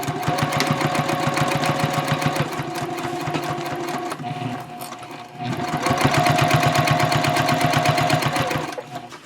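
Sewing machine stitching messenger bag sections together at a 2.5 stitch length with a half-inch seam allowance, running in two steady rapid bursts with a brief slowdown between, close and loud.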